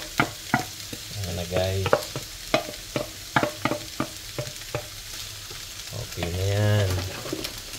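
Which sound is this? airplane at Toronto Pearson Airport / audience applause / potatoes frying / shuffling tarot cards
potatoes frying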